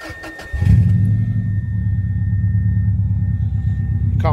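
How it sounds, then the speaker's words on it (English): A Subaru car engine cranks and catches after about half a second, then settles into a steady, close, loud idle rumble that runs on alone. "Can't beat the sound of a Subaru,"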